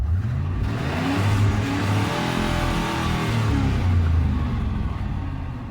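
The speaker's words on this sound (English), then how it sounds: "Sounds like a fucking race car." A truck engine revs hard, a loud continuous close rumble that rises and falls with a raspy, race-car-like roar and no talking.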